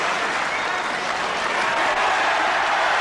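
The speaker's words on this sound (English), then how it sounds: "Well, they're cheering," A snooker crowd at the 1984 Benson & Hedges Masters semi-final applauds and cheers in a steady, dense wash of clapping that fills the whole stretch without any voice on top.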